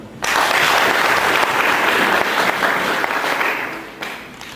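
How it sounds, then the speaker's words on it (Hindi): Audience applause at a network-marketing seminar, a loud sustained burst of many hands clapping that starts abruptly and tapers off near the end. "इसलिए प्लीज अपने आप के लिए जोरदार ताली।"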